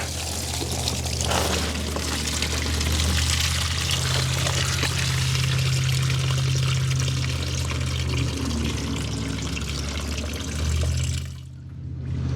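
Engine coolant drains steadily from a pulled radiator hose on a Nissan Micra K11 into a bowl, a continuous close pouring and splashing of liquid that runs for about eleven seconds before stopping abruptly.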